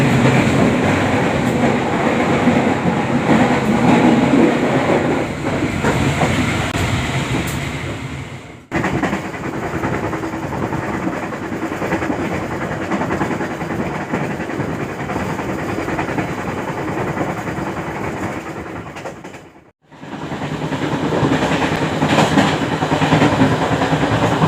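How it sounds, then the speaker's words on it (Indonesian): An economy-class Matarmaja passenger train runs between Jakarta and Malang, heard from inside the first carriage directly behind the locomotive. A loud, continuous rumble and rattle with rhythmic wheel clatter carries through, dropping sharply twice as if passing through short gaps before resuming. "ini saya ada di kereta 1 ya, tepat di belakang lokomotif."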